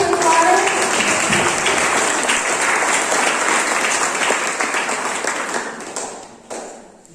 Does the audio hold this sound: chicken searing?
no